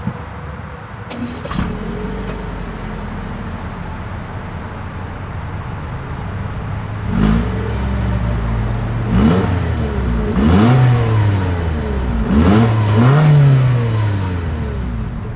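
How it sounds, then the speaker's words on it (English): A 2023 Toyota Corolla Cross SUV engine revs hard several times through the exhaust, rising and falling in pitch over a steady idle, loud and close. "I do believe you guys know what we have to do next is always here is that exhaust clip"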